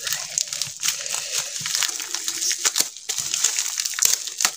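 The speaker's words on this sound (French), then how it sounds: "Je suis en train d'arracher le papier." Paper backing is torn off a strongly adhesive diamond painting canvas in a series of crinkly, crackling pulls, close and fairly loud, with short pauses between rips.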